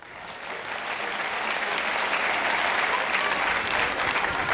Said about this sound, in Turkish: Helal, alkışlayalım.